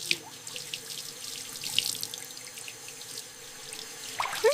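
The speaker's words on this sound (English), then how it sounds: "I take a red apple. I wash the apple." Tap water runs steadily into a sink while a red apple is washed under it, a close, moderately quiet splashing stream with small drips and a brief louder splash at the end.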